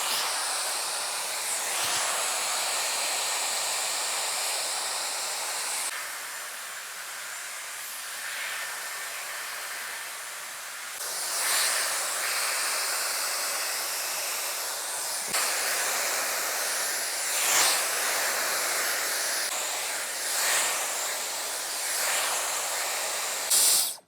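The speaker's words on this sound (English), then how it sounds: "It is drying my hair pretty quickly" A Dyson Airwrap with its soft smoothing brush blows on hair, a loud, steady airy hiss that runs throughout, changing slightly in tone as the brush moves through the strands.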